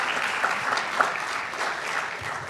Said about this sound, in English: Can I get a round of applause for our network sponsor,